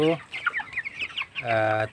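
Twenty-three-day-old broiler chickens cluck in a poultry farm shed on a January winter night, with a few close, overlapping calls and a louder drawn-out squawk at the end.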